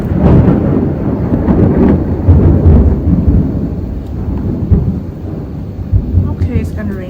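Low, rolling thunder rumbles continuously and loudly throughout, building into heavy swells with faint rain hiss beneath, ahead of an approaching storm.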